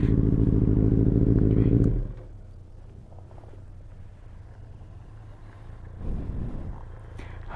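A Benelli 600i motorcycle fitted with a very loud exhaust roars hard for about two seconds, then drops to a low steady rumble that swells briefly again near the end.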